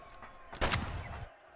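A single loud shotgun blast in Escape from Tarkov: Arena, a sharp broadband crack with a short decaying tail, heard close and alone.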